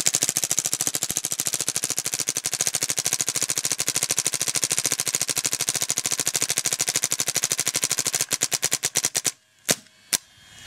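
Rapid full-auto gunfire from an uncapped firearm, a long unbroken stream of fast, loud, close cracks lasting about eight seconds, then slowing into a few separate shots and stopping with brief quiet gaps before two final bursts.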